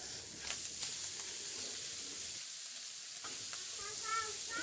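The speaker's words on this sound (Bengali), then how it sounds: "চিংড়ি মাছ, পেঁয়াজ, রসুন একসাথে ভেজে নিচ্ছি।" Prawns, onion and garlic frying together in a pan give a steady, soft sizzle and hiss with light stirring, dropping briefly midway before resuming, close and fairly quiet.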